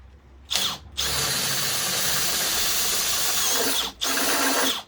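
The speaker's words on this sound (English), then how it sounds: "I got to drill all the way through" A power drill with a half-inch bit whines loudly and steadily while boring through a metal rivet on an Astro van engine mount, stopping briefly once before resuming, close up with no talking.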